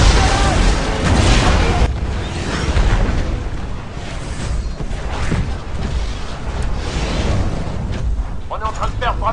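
Grenade explosions in the Titanfall shooter on Xbox One, several deep booming blasts and bursts layered over continuous game noise, loud and close, with someone speaking over the action.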